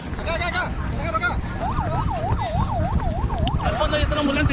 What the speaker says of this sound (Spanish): Al fondo hay otra ambulancia, ya llego ya.